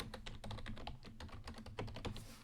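Quick typing on a computer keyboard during data entry, a fast irregular run of close, crisp key clicks with no talking.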